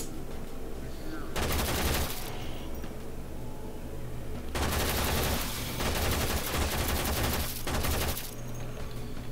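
Dense automatic gunfire in the futuristic Warframe video game comes in long sustained bursts separated by short pauses, loud and continuous over a steady background hum.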